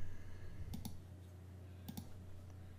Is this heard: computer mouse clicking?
yes